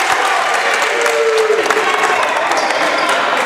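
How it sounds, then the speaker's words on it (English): A loud crowd roars and murmurs steadily inside a small high school basketball gym during a Fannin vs. Gordon Central game, with scattered shouts, sneaker squeaks and ball bounces in the close, dense din. "This crowd it's loud in here"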